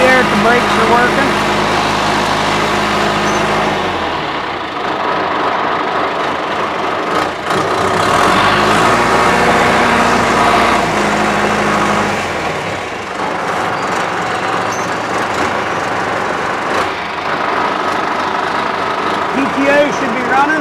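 A 1978 John Deere 2440 farm tractor with a loader runs its engine at a steady heavy idle with the PTO engaged, giving a continuous rumble with a few shifts in load and talk over the top.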